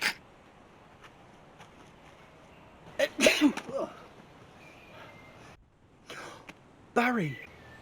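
A sneeze, reported as a man's, bursts out twice, once near three seconds and again near seven, each a sharp loud blast over quiet room tone, with voices around it.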